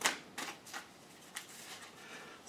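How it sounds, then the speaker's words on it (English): Tarot cards shuffled by hand in quick, soft riffling bursts, a few separate ruffles spread over a couple of seconds, close and fairly quiet with no talking. "Shuffle these."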